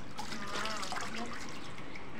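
Water runs steadily as a small child is bathed in a tub, a continuous close trickle filling the whole stretch without pause.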